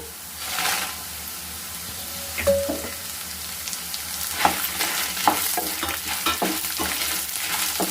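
About ten to fifteen dried red chillies fry in oil in a pan for curry leaf powder, a steady close sizzle with clinking stirs and several sharp pops scattered through, no talking.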